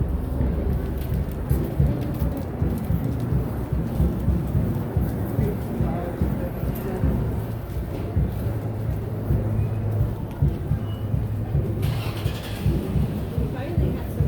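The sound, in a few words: rain falling in the street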